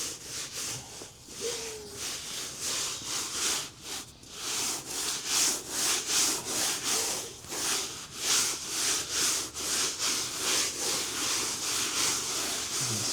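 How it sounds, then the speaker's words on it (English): Coarse salt thrown and rubbed by hand over a fresh deer hide being prepared for tanning, a steady run of scratchy, gritty rasping strokes repeated close up with no voices. "So now we're gonna throw salt on it."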